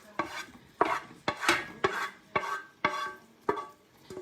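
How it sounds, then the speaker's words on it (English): Chopped onions being stirred into a butter roux in a pot, a steady rhythm of seven or eight scraping spoon strokes with light sizzling beneath, close and clear, with no voices. "let's add our onions that we just chopped up"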